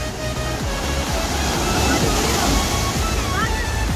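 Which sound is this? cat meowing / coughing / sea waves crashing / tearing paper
sea waves crashing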